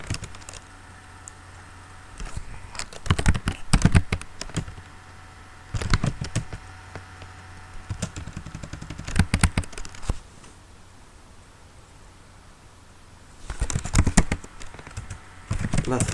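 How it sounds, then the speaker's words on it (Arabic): Rapid typing on a computer keyboard while entering commands, bursts of clicking keystrokes separated by pauses, close and clear over a low steady background hum. "نكتب تعليمات نود كما تلاحظون"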